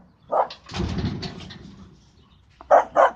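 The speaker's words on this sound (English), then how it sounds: "That's my neighbor's dog." A neighbor's dog barks outdoors, a bark near the start, a longer scuffling whine, then two sharp barks at the end, fairly close and clear with no talking.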